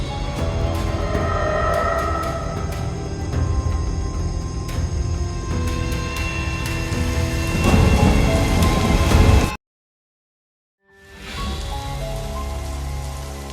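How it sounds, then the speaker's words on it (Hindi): Heavy rain pours steadily with rumbling thunder building, then cuts to silence for a moment before the downpour resumes. "बिजली इस तरह कड़कती है मानो पूरा आसमान चीर देना चाहती है।"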